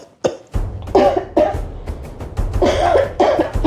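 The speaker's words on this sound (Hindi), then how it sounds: "खांसी जा ही नहीं रही है।" Repeated heavy, hacking coughs from one person with a persistent, lingering cough, coming in a rough series with throat-clearing sounds between them.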